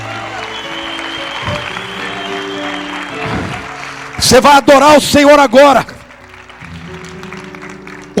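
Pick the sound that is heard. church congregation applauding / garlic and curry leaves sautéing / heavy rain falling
church congregation applauding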